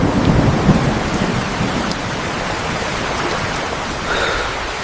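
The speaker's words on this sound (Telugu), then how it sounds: "వర్షం ఆగట్లేదు." Heavy rain pours steadily in a scene from an AI-generated short film, a loud, dense hiss, with a deep rumble of thunder near the start fading into the continuous downpour.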